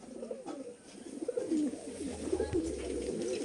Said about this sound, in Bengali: আর কত বিগ সাইজের পায়রা এটা